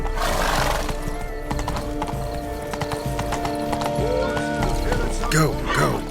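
Horse hooves clip-clop at a steady gallop in The Witcher 3 while a horse whinnies, mixed with game music and ambient effects; a voice speaks briefly.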